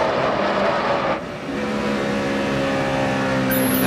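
A NASCAR stock race car engine howling down the back straightaway at the 2005 NEXTEL All Star Race, a loud sustained high-pitched roar with a brief dip, then a steady rising engine whine.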